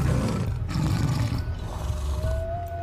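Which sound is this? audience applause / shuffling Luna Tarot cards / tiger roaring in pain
tiger roaring in pain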